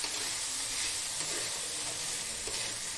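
Basmati rice stir-fried in a kadai gives a steady, dense sizzle and hiss, close and unbroken throughout, with faint scraping as the grains are turned over.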